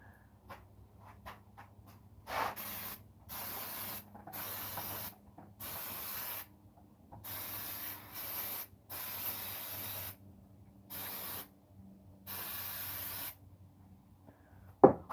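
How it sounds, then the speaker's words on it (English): Brake parts cleaner sprayed onto Volvo 244 brake calipers being modified, heard as a series of about seven short, crisp hissing bursts with pauses between them, fairly quiet and close. "Now hose it off with some brake parts cleaner,"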